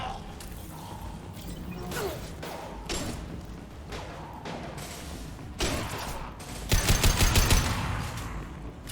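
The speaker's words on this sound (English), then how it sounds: "Firing an impact shot!" Impact shot gunfire in the video game Mass Effect 2, heard as irregular heavy bursts and thuds over a dense game soundscape, ending in a loud rapid volley, with no talk.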